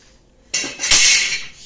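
Metal kitchen utensils picked up and knocked together, a sudden close clatter after a quiet start, then a brighter jangle that slowly fades.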